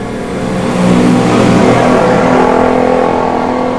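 Motorbikes passing along a road near a bridge make a steady, fairly loud engine roar that swells and holds with a rough, revving drone.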